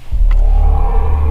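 The BMW XM start-up tone, designed by Hans Zimmer, plays as a deep, sustained low rumble that swells in right away and holds steady.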